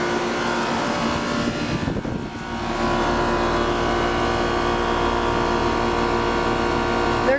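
Two Comformaker 10-SEER, 2-ton HVAC units with Copeland reciprocating compressors, matched to gas furnaces, run under a high heat load, a loud steady mechanical hum and drone close by, shifting slightly in tone partway through.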